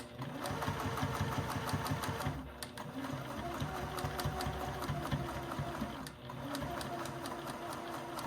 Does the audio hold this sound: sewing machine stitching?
yes